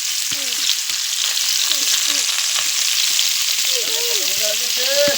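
Prawns sizzle steadily in hot oil in a pan while a Bengali taro-leaf ghonto dish is cooked, a dense continuous frying hiss with spatter and light spatula scrapes, close and loud throughout with no voice.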